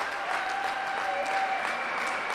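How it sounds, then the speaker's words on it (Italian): Spectators clap steadily in an indoor arena during a men's Serie A Gold handball match in Sassari, a dense sustained patter of hands. "inizia a battere le mani il pubblico del Pala Santoru"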